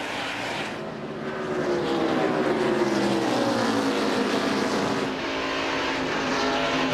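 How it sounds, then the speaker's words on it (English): NASCAR stock cars roaring past on an oval at the Sharpie 500, a dense blended engine howl that swells as the pack goes by and then eases slightly, loud and continuous with no voices. "Those cars go by Bill Elliott."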